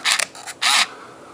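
Rollei 35W QZ compact film camera shutter firing up close, three short mechanical clicks and whirs in quick succession, the last one the longest.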